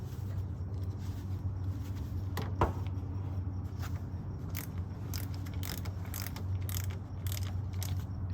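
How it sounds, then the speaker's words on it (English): Repeated clicking of a ratchet tightening a car battery terminal, a run of quick metallic ticks over a low steady background hum, close and moderately quiet. "grab your ratchet"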